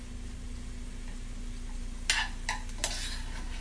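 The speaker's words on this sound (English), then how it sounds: "start moving those veggies around since we got some action" Vegetables fry in a pan with a steady sizzle, broken near the end by a few clicking scrapes as they are stirred.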